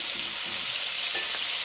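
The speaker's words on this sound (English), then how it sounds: "Look at that sizzle." Fresh jackfish frying in a hot pan outdoors, a loud, dense hiss of sizzling oil that holds steady for the whole moment with faint stirring underneath.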